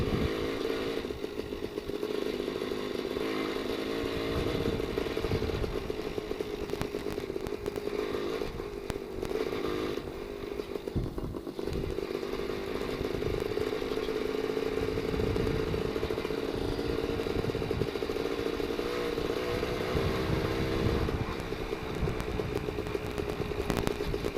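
A WSK 175 motorcycle engine rumbling continuously and steadily while riding, a dense droning buzz with rattles and mechanical clatter, up close and with no speech.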